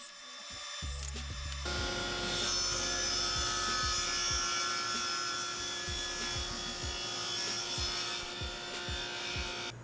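A table saw rips wood boards to width: the motor spins up after a brief quiet start, then holds a bright, steady whine, with repeated rhythmic cutting passes through the boards. No one speaks.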